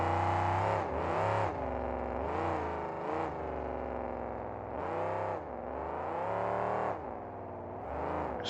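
A monster truck engine at a 2004 arena event in Jacksonville, Florida roars loud and continuous, revving up and down in long surges with no talk.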